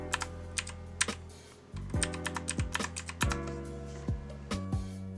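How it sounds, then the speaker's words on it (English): Mechanical keyboard typing, first with ABS keycaps and then PBT keycaps, gives crisp close clacks in quick irregular bursts with short pauses between, heard alone without speech. "you can hear the obvious sound difference just changing keycap materials can make"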